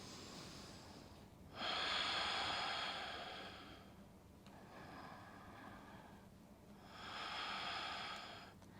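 Deep breaths are taken while holding a yoga twist. Three long, airy breaths are each held for a couple of seconds, separated by quiet pauses, and sound close and clear with no talking.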